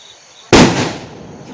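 A single sharp firecracker bang at a Tulasi puja celebration bursts out suddenly, loud and close, then fades into a lingering crackling tail over a quiet background.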